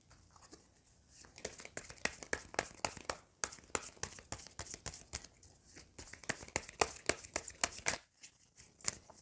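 Tarot cards get riffled and shuffled by hand, with rapid crisp flicks coming in bursts and short pauses, close and fairly quiet with no voices.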